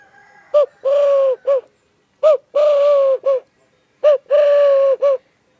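A handheld bird-call device mimics a turtledove, giving three paired coos, each a short note followed by a longer sustained hoot, spaced evenly and sounding close and clear.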